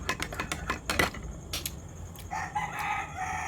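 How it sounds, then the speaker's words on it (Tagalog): A rooster crows from a short distance away, one drawn-out call among scattered clucks and clicks, with no voices. "Unang tunog ng manok."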